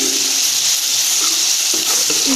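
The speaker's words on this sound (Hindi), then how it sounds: "इसको करना है थोड़ा सा, हम इसको भून लेंगे।" Garlic and ginger paste frying in oil for chicken jalfrezi, giving a loud, constant close sizzle with a few faint stirring clinks near the end.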